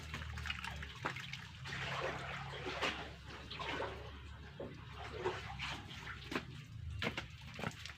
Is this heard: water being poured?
yes